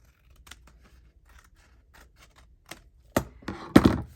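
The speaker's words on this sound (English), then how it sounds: "I'm going to snip those corners, number one. And number two, I need to trim across here" Scissors snip paper corners and trim across a sheet during a craft session: faint small clicks at first, then a few close, crisp cuts in quick succession.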